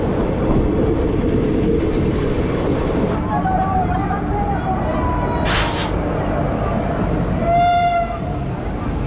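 Saryu Yamuna Express train running on rails, a continuous loud rumbling roar with faint clatter, near and steady, with a brief horn-like tone partway through and low voices in the background.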